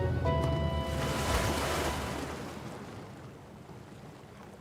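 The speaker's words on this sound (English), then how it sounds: "Ah, there's a lot of waterfalls." Waterfalls cascading on a video game island, a steady broad rushing roar of water that slowly fades, with no talk.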